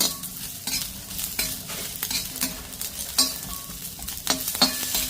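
Pieces of fresh coconut with oil poured over them briefly sizzle alongside onions in a pan, with repeated spatula scrapes and taps over a steady frying hiss, close and moderately loud, no voices.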